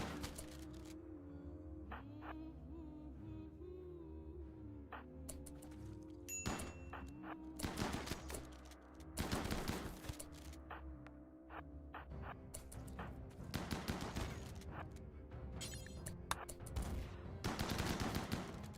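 Shotgun blasts in the RimWorld video game, a string of sharp booming shots in clustered bursts over a steady game background.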